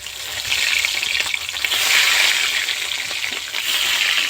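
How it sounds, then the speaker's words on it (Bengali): Rohu fish pieces frying in hot oil, a continuous, close hiss and crackle that swells and eases slightly throughout. "এবার বাকি মাছগুলো ওই একইভাবে আমি ভেজে নেব।"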